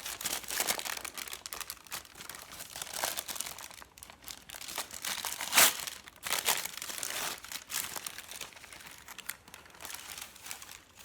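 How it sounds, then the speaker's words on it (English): Wax paper being peeled off freshly hardened homemade soap, a steady run of close crinkling and crackling with irregular bursts and one sharp crunch partway through. "Remove all the wax paper."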